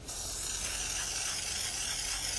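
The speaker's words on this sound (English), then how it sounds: "a technician applies the DataDots to the car using an adhesive spray" A steady, close hiss of adhesive spray being applied to a car runs continuously without a break, broad and airy, with no voices.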